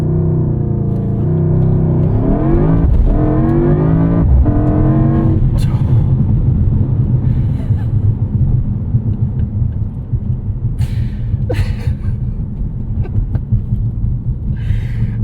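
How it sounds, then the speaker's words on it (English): A 2024 Mercedes-AMG GT 63 S E Performance launches from a standstill at full throttle, its engine rising sharply through rapid upshifts before settling into a steady, loud, close rumble at speed. "Full right foot on the accelerator and release the brake."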